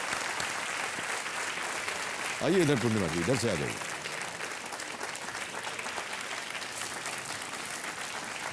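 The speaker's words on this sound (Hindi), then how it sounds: "जाने से पहले एक बार इनका अभिनंदन तालियों के साथ" Steady studio audience applause fills a TV quiz show set, with a continuous dense wash of clapping while someone speaks over it and a brief sung or musical flourish rises partway through.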